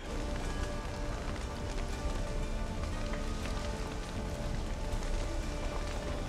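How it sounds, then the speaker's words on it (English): Steady rain and storm noise from The Witcher 3: Wild Hunt fills the scene as a dense, continuous wash, loud and even throughout with no pauses or clear voices. "it's rainy and storming"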